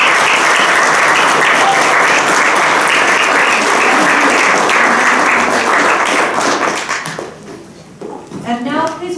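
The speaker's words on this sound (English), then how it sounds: "Please congratulate our new inductees with a round of applause." Audience applause at a school junior honor society induction ceremony, loud, sustained clapping that fades out near the end before a voice begins speaking.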